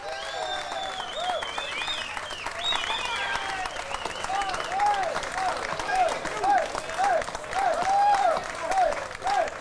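A concert crowd at a seaside pavilion show applauds a band member with sustained clapping, mixed with shouts and voices rising over the noise.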